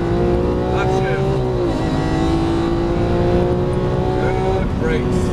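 A Lamborghini Aventador LP700-4 roars loudly on a race track, its engine note climbing, dropping sharply at an upshift, then climbing again, with a voice speaking over it.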